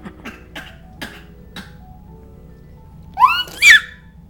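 A dog coughs in a quick series of four short, sharp bursts spaced about half a second apart, close and moderately loud, followed after a pause by two higher, whining vocal sweeps.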